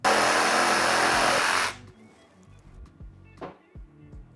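A jigsaw chatters loudly through construction-grade lumber for a second and a half, then stops, leaving quiet handling knocks and a short scrape afterward.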